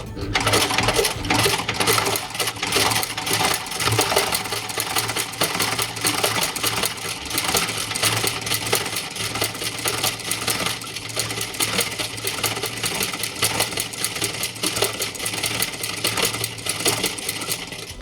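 Sewing machine doing free-motion embroidery with a chop stitch technique, a dense steady mechanical whirring and rapid needle clatter running continuously and loudly with no pauses.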